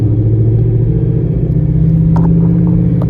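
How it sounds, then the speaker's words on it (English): A Ford Mustang S550 drift car with a fresh transmission holds a loud, steady engine drone, then a brief mechanical clunk as it shifts into third gear, close up with no talk. "the real test is gonna be going into third right here"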